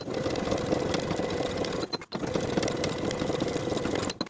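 A sewing machine topstitching the yoke seam allowance on a pair of high-waisted jeans, running in a steady close whir with a brief pause midway before resuming.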